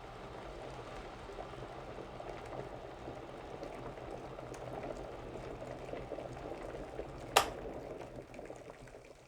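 A white kettle boils with a steady bubbling rumble that continues throughout, and a single sharp click rings out near the end.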